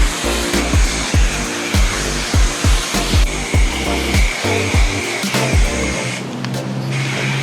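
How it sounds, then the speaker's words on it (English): A car wash pressure sprayer rinses a car, a loud continuous hiss of water with rhythmic thumping pulses throughout as the jet sweeps over the body, and no voices. "I'm gonna rinse the car, spray it with soap, rinse it one more time."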